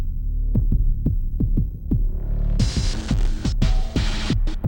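A heavy kick drum layered with deep sub bass thumps in a steady, evenly spaced pulse in a Battlefield 6 theme, with bright distorted, crashing metallic percussion swelling in halfway through.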